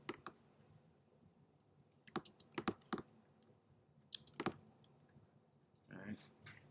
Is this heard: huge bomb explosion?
no